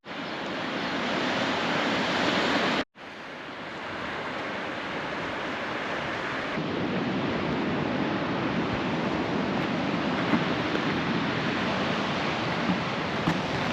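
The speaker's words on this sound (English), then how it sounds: "So this is Glass Beach at Robe" Waves breaking along the rugged limestone coastline at Glass Beach in Robe, a continuous broad roar of surf with a brief cut near the start, steady and fairly loud, no voices.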